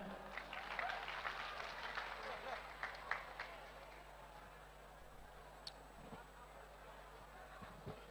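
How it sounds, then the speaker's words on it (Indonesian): Audience applause at a religious lecture, fairly faint clapping that swells early and then thins out into scattered claps and room noise, with voices murmuring in the background. "Beri tepuk tangan."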